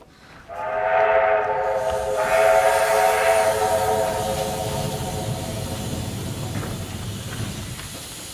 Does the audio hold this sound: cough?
no